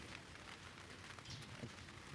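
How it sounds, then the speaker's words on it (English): Intense rain falls outdoors as a dense, steady hiss of drops hitting surfaces, continuous and even throughout, without any voices. "Started to rain quite intensely now."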